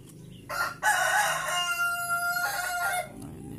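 A rooster crows once, loud and fairly close, its long drawn-out call rising and then trailing off against a faint background hum.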